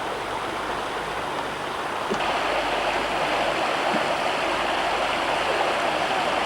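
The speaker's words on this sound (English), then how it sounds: "This isn't the full flow of the river." River running at reduced flow through a forest reserve, a steady close rush of moving water with constant broadband babble, unbroken from start to finish.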